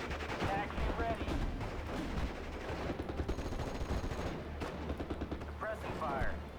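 Dense suppressing gunfire crackles continuously through a Steel Division: Normandy 44 battle, with rapid shots, distant booms and a few unit voice lines sounding over the barrage.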